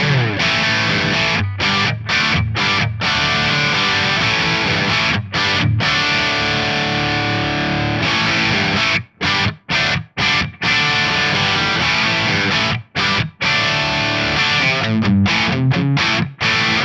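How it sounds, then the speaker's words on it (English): Crunchy, overdriven electric guitar chords on the bridge pickup strummed loudly through a Headfirst ALTA P1 preamp and Fractal VP4, with short rhythmic stops and a light plate reverb tail filling the space. "my first preset that I've got is just channel 2 set up for a crunch tone"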